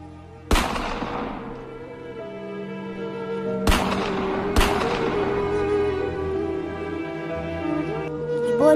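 Cartoon gunfire in an animated protest scene: three sharp, loud shots ring out, the last two close together, over a steady musical background.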